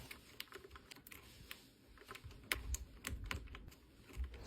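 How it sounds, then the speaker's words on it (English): Keycaps are pried off and pressed onto a mechanical keyboard, producing quiet, irregular plastic clicks and snaps close to the microphone, with no talking. "Enjoy some ASMR as I change out my keycaps."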